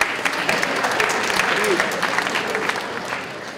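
An audience bursts into applause at a talk, a dense wash of clapping that starts strong and slowly tapers off over a few seconds.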